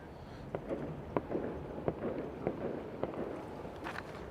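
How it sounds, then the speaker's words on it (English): Tivoli Gardens fireworks in Copenhagen, heard as a series of distant sharp pops and bangs spaced irregularly over several seconds against a steady outdoor city background. "Those are the fireworks of Tivoli Gardens"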